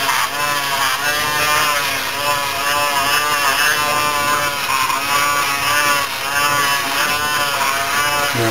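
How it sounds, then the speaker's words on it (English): A super close electric shaver is run over skin against the direction of hair growth, giving a loud, steady buzzing hum up close with a slight periodic wavering, uninterrupted throughout. "And then I come back with a super close shaver from the wall"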